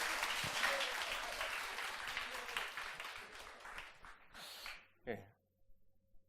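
Church congregation applauding during a Sunday worship service, a dense burst of clapping that fills most of the clip and then thins out, ending with a few scattered claps and a brief voice.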